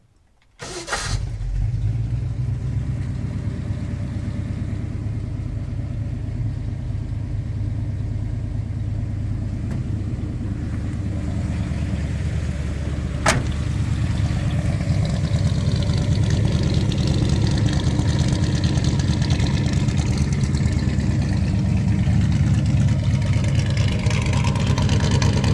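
A 1979 Ford F150 pickup with a 400M V8 cranks and fires up abruptly, then settles into a steady, loud, low rumbling idle that continues without talk.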